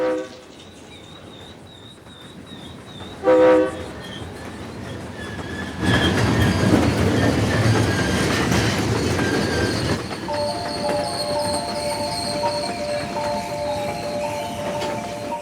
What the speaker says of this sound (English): the noise of the train's horn unsettles them